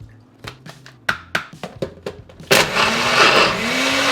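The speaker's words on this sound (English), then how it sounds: "it's been blending for like a minute now" A blender chops and churns protein Oreo ice cream with milk, first a series of sharp rattling knocks as chunks hit the blades, then a loud continuous motor whir as it spins up.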